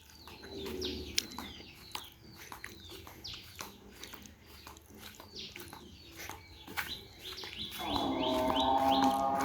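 Pigeons flutter about a rural yard on a cloudy autumn afternoon, giving repeated soft coos and chirps at moderate distance, before a louder steady noise swells in near the end.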